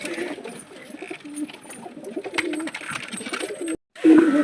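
Pigeons coo steadily in a loft holding both males and females, several birds overlapping in low, throaty rolls throughout, with a brief gap before a louder, closer coo at the end.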